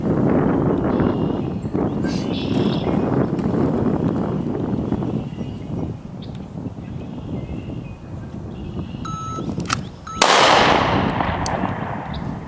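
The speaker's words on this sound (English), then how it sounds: "Shot it low, didn't have a good purchase on the gun." A Glock 43 pistol fires during a deliberate practice drill, a single sharp, loud report cracking out near the end after a long stretch of outdoor wind noise and some talk.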